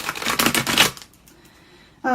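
A deck of tarot cards is shuffled in a quick rapid riffle of close papery flutters lasting about a second, then a pause.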